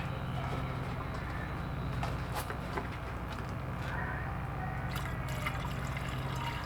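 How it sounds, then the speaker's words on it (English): Distilled water rinsing base-metal residue out of used gold recovery filters, a steady close trickle and slosh of liquid with a few light drips, without any voices. "Maybe I'll give it a couple of rinses with distilled water"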